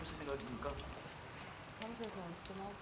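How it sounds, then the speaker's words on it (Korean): Steady winter rain patters softly on a gray morning, a continuous wet hiss running beneath a person talking. "추적추적 비가 내리는 겨울날 아침."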